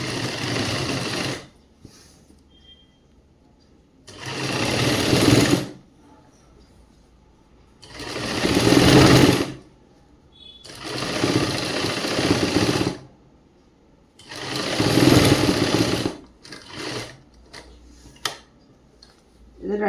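A sewing machine stitches a girls' government school uniform skirt in loud bursts of rapid whirring, about four longer runs separated by quiet pauses, with a few short stitch taps between them.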